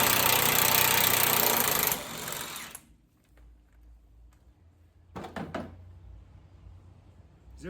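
A heavy lug nut buster named Bertha hammers hard and fast for about three seconds, then stops. After a quiet stretch a short clatter of metallic knocks follows.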